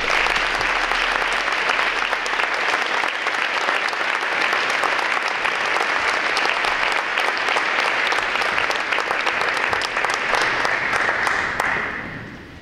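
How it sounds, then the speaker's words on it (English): An audience at a 2014 Hall of Fame induction ceremony gives loud, sustained applause with dense clapping for about twelve seconds, then the sound fades at the end. "let's give you a round of applause"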